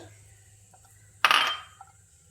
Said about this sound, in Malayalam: ഇത് നമുക്ക് ഒരു പാനിലിട്ട് ചുട്ടെടുക്കാം